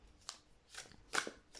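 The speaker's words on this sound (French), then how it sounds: "on va battre le jeu" A deck of Tarot of the Golden Wheel cards shuffled by hand in several quick riffling bursts, close and crisp, with short pauses between them.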